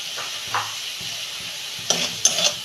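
Turmeric and ground cumin stirred and fried in a pan for a home-style Bengali dish, with a soft steady sizzle and a few scraping spoon strokes against the pan.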